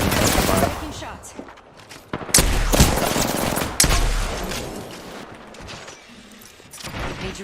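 Bursts of gunfire from the tactical shooter game Valorant, loud sharp volleys around the two- and four-second marks over a busy in-game mix that continues at a lower level with no speech.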